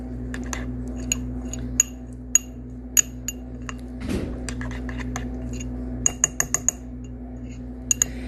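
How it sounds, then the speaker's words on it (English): A spoon stirs multigrain garlic mug bread batter in a mug, tapping and clinking against the sides in quick, bright ticks over a quiet, low background hum. "So we're going to give it all a mix."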